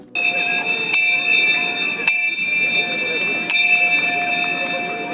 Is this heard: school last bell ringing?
yes